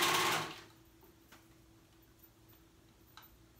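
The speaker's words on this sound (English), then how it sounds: "So I like to do a little bit of serging first before I start pulling" A serger overlock machine stitches fabric edges in a short, close, rapid whirring burst lasting about half a second. It then stops, leaving quiet room tone with a few faint clicks.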